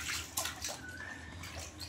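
Water sloshing and splashing in a baby's bath at home, a steady close wash of small splashes and ripples lasting throughout, with no voices.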